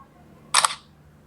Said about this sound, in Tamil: கேமரா பட்டனை ஃபோட்டோ எடுக்க போகிறேன்.